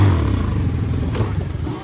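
A motorcycle engine running steadily and close, a rough rumbling drone with faint clatter that eases slightly toward the end, with no voices over it.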